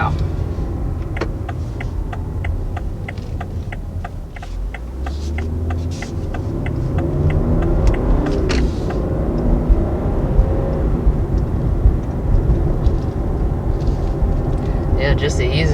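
A 2020 BMW X3 M with a 500-horsepower engine pulls away under light throttle, a low, steady engine drone rising gradually from inside the cabin while occupants talk over it.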